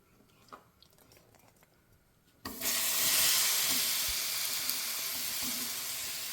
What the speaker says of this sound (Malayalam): കുറച്ച് നെയ്യ് ഒഴിച്ച് കൊടുക്കാം നമ്മുടെ നേന്ത്രപ്പഴം ഒന്ന് വഴറ്റിയെടുക്കാനാണ് കേട്ടോ